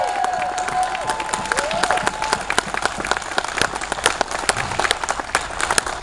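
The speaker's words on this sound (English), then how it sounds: "Let's give them a round of applause as well" Audience applause for veterans at a constitutional carry event, a crowd clapping steadily with some cheering mixed in, moderately loud and sustained across the whole stretch.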